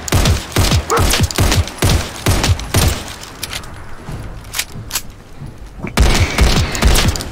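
Rapid weapon fire in Fallout 4 rattles out in dense, loud bursts, pauses into scattered single shots and softer impacts, then resumes a heavy burst near the end.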